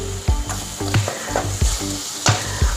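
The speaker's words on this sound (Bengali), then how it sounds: "পেঁয়াজ আদা রসুন প্রায় ভাজা হয়ে এসেছে, তেল ছেড়ে আসছে" Onion, ginger and garlic, with cumin powder added, fry in oil in a pan. The sizzle is steady and close, broken by repeated stirring scrapes and clinks.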